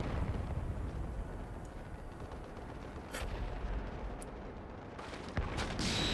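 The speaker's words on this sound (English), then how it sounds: "Smoke bomb! Or flash grenade!" A smoke bomb or flash grenade going off in Final Fantasy XIV: a few sharp, faint bursts over a low rumbling bed, spaced a second or so apart, with no speech.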